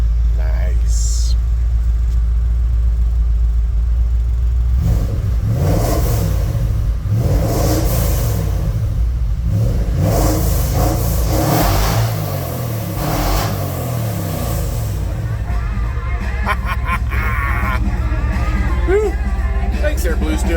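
A Ford F100 pickup with a DOHC engine revs repeatedly on a test drive, loud rising and falling roars over a constant low rumble, with voices talking in the cab.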